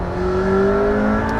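A McLaren P1 hypercar accelerating at half throttle, its engine drone rising steadily in pitch, loud and close from inside the cabin for a short stretch.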